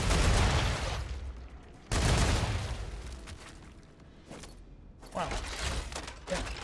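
A heavy weapon booms in the Star Rupture video game, loud broadband blasts at the start and near two seconds, then sustained rumbling and mechanical clatter with further bursts toward the end, no voices.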